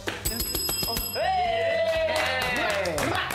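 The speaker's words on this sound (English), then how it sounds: "Go on, hit a bell, hit a bell." A bell rung on a children's TV spelling game show, ringing out clearly with a long sustained tone and a second strike, over studio background noise and brief chatter.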